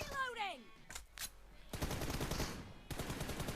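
Rapid gunfire bursts in a video game fight from the Orbion matchup, sharp dense shots filling the second half after some brief electronic tones and sweeps, loud and continuous.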